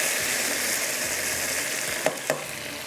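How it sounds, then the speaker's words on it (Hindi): Taro root (arvi) fries in oil for achari arvi, a steady, even sizzle with soft low stirring bumps and two brief clinks near the end. "जब तक हमारी अरवी थोड़ी सी फ्राई हो रही है।"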